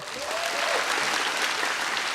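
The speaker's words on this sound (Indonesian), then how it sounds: "Berikan tepuk tangan buat Zawin." A stand-up comedy show audience applauds a comedian, a dense, even wash of clapping from a large crowd filling the room at steady loudness for the whole stretch.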